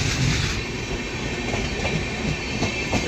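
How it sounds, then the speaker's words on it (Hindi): Gomti Express pulling out of Tundla Junction, a steady rumble of rolling railcars with faint clickety-clack wheel beats, heard close and continuous with no talk. "तो ये फाइनली भाई गोमती निकल चुकी है टूंडला जंक्शन से"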